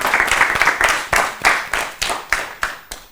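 Studio audience at a children's quiz show clapping for a traditional dance performance, a brisk run of sharp, close claps with a steady, lively rhythm.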